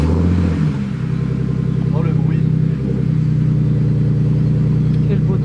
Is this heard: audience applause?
no